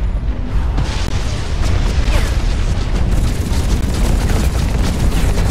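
A rocket explosion in the mech combat game Hawken, a loud, sustained booming roar of blasts and rumble filling the whole stretch with no pauses.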